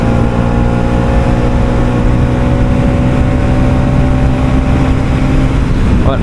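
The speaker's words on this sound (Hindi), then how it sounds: "और आज ये भाग रही है बाइक" A Hero Splendor motorcycle cruising on the road, its engine droning loud and steady with a constant low hum and rushing wind noise, no voices.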